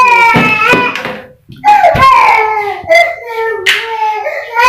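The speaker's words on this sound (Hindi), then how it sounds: "ये देखो कैसे रोती है, कैसे रोती है" A baby girl cries loudly in wailing bursts close by, with brief pauses between sobs, during a family visit near a Surkanda Devi temple outing.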